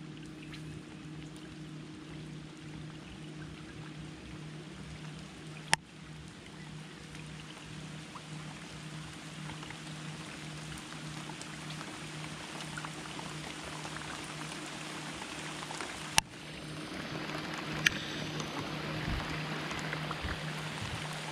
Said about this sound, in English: Well, it went from a trickle to a downpour.